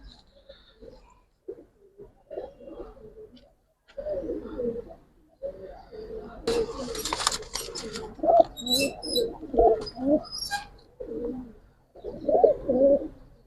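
Young Giribaz pigeons coo in a loft, soft repeated throaty calls rising and falling close by, with a few sharper chirps mixed in.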